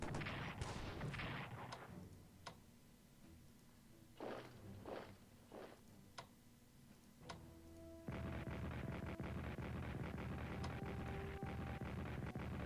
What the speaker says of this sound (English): Get rid of their entrenchment with artillery.